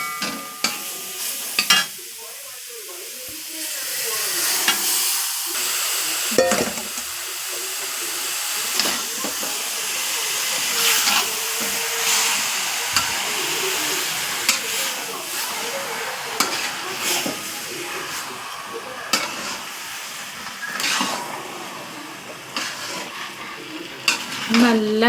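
Chicken curry frying in a pan, stirred with steady scraping and clinking of a spoon over a continuous hiss and sizzle, close and moderately loud, with faint talk now and then.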